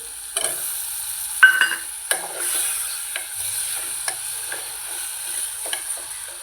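Potato pieces go into a pan of spicy chicken curry (rassa) and are stirred, giving a steady sizzle with scraping stirs and light clinks against the pan.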